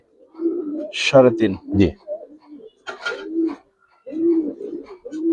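Bagha giribaz pigeons coo in soft, low repeated bursts close by, with someone speaking between and over the calls.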